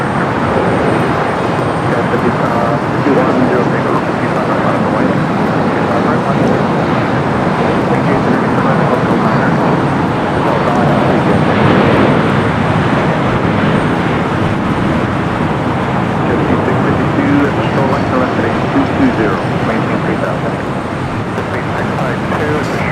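A jet airliner arrives at Los Angeles International Airport, producing a loud, continuous broadband roar that holds steady from a distance and fades slightly near the end.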